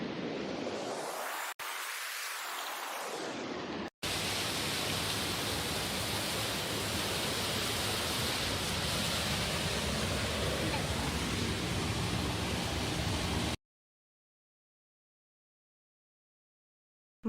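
A waterfall on a river below a large rock by the Sankat Mochan temple on the Triund trek near McLeodganj, Himachal, roars as a steady, dense rush for about ten seconds before cutting to silence.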